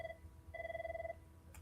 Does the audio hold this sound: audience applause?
no